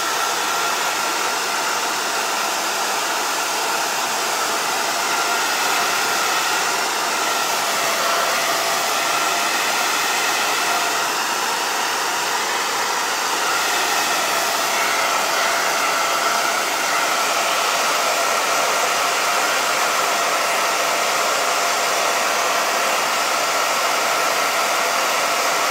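A hair dryer blows continuously on the back of a painted soup can vase, a loud, steady whooshing roar with a high whine that holds unbroken for nearly half a minute, close to the listener.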